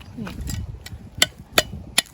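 Several sharp, hollow strikes of a hoe chopping into wet, stony soil, spaced irregularly, with faint rustling and low murmuring between them.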